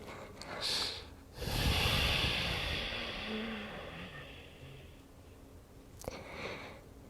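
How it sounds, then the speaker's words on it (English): Breathing in and out through the nose during a yoga session, a long airy inhale followed by a slow breath, then a brief sniff near the end, close and soft with no talking. "Breathing in and out through your nose."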